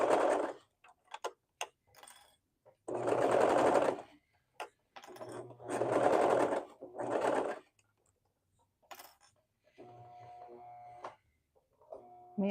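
A sewing machine basting swimsuit fabric runs in several bursts of a few seconds each, separated by pauses, with faint ticking and clicking between the stitching runs and no talk.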